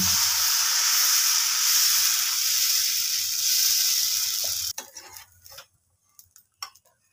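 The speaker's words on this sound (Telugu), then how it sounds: "ఇప్పుడు దీన్ని దోశ వేసుకున్నాం." Dosa batter sizzles on a hot pan with a loud, steady hiss that runs for several seconds, then cuts off abruptly and leaves a few faint scattered clicks and taps.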